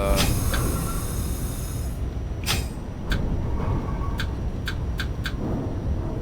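A Manhattan-bound Q train runs in the OpenBVE simulator on the Brighton Beach Line, a steady rumble of wheels and motors with a high squeal early on, then a series of sharp rhythmic clicks from rail joints.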